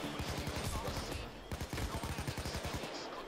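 Gunfire in the video game Payday 2: rapid bursts of close, loud shots rattle in quick succession with a short pause in the middle, followed by a few more scattered shots.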